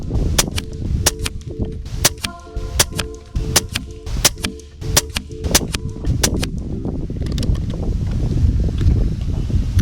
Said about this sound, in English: The one thing I need to admit is that the wind was quite steady there